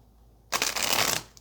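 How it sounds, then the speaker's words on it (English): Tarot cards getting one quick riffle shuffle close up, a short crisp flutter of cards lasting under a second against a quiet room. "Let's get one more good shuffle"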